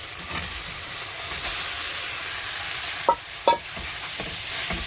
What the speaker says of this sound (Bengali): মশলাটা ভাজা হয়ে গেছে, এবার পাস্তাটা তুলে দিচ্ছি, সিদ্ধ করে রেখেছিলাম।